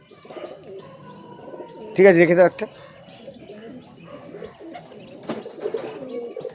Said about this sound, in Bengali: এগুলো ধাড়ি পায়রা দেখতে পাচ্ছেন